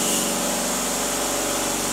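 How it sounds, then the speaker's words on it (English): An air compressor runs steadily for a DIY XL plasma cutter during its first cut, a constant mechanical hum with a busy hiss across the top end, loud and close with no pauses or talk. "Compressor started up."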